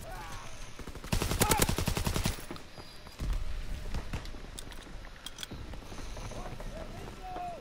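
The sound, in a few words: Sten submachine gun firing in video game Call of Duty WW2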